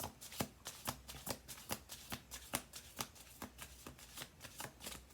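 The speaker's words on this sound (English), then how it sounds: "let's do two more shuffles here" Tarot card shuffling up close: a quick, steady run of crisp riffling snaps, evenly paced, in an otherwise quiet room.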